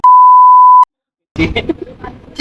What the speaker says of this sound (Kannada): ನಾವು ಉತ್ತರ ಕರ್ನಾಟಕ ಮಂದಿರಿ ಸ್ವಲ್ಪ ಬೈಗಳ ಬಾಳ ಇರ್ತಾವು ಅದಕ್ಕ ಬೀಪ್ ಹಾಕಿರ್ತಾನ